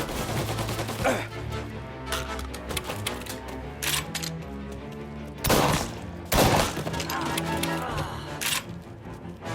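Gunfire in Mafia: Definitive Edition crackles in rapid bursts and single sharp shots, with two louder blasts standing out over a busy game backdrop.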